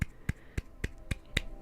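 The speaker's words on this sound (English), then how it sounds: "I need 2 claps" Six sharp, evenly spaced hand claps ring out one after another, crisp and close with no speech.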